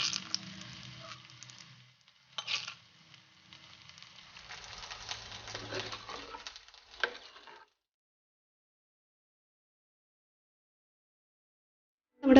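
Mustard seeds, two dried red chilies and curry leaves crackling in hot oil, then the tempering is poured into a dish, giving a fizzing sizzle with brief bursts that stops abruptly and leaves silence before a final knock.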